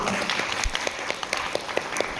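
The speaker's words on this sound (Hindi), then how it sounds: "आप अपने लिए जोरदार तालियां बजाइए" A live audience claps steadily and continuously through a motivational mental health talk, a dense patter of many hands with no voices heard over it.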